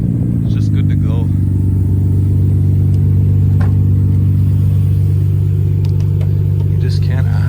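A Nissan Skyline R34 GTR V-Spec II from 2001 with a Kakimoto exhaust idles and revs in a steady, loud low rumble throughout, with faint voices audible in the background.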